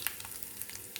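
Tempering spices, fenugreek seeds and crushed garlic fry in hot oil for dal, crackling in a brief, close sizzle with sharp scattered pops.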